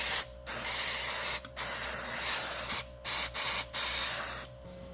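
Aerosol cleaner that evaporates quickly, sprayed onto a Mercedes SLK 230 climate control circuit board: loud, close hissing bursts of varying length separated by short pauses, no talking.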